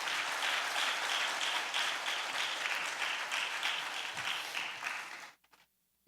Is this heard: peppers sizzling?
no